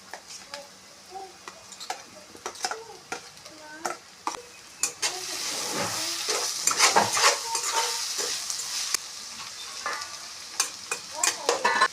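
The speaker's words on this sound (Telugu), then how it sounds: "మూత పెట్టేసి ఉల్లిపాయలను ఒక రెండు నిమిషాలు మగ్గించుకుందాం" Onions cooking in a pan for a dry prawn and cucumber curry, giving a steady close sizzle broken by frequent clinks and scrapes of stirring, and the clatter grows busier in the second half.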